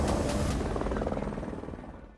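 A news channel's helicopter flies overhead during election coverage, its loud, steady rotor drone filling the air and slowly fading toward the end, with no talking.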